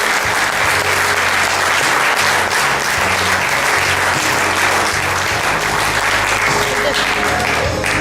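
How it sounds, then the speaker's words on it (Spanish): A church congregation bursts into loud, sustained applause, dense clapping filling the room evenly for about eight seconds with crowd noise beneath. "Denle un fuerte aplauso a Dios"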